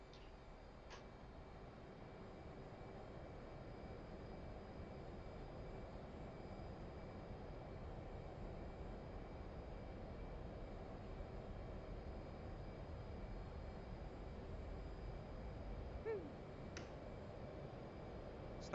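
Light jet engine in a flight simulator game during takeoff, a faint steady roar holding constant the whole time with no talking.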